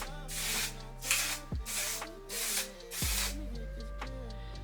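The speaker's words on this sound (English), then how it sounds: "So she said it's like a aerosol spray" Aerosol waterproof makeup setting spray misted onto a face in several short hissing bursts, close and fairly quiet, with a steady tonal hum running underneath.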